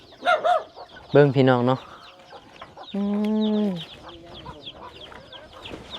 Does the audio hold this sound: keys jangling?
no